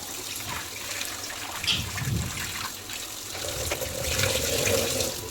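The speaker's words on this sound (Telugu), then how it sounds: "చికెన్ ఎంత మంచిగా కడిగేసుకుంటే అంత మంచిదండి" Tap water runs and splashes while raw chicken is washed for a drumstick chicken curry, a steady close trickle and gush with shifting splashes and no talking.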